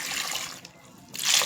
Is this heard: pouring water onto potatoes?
yes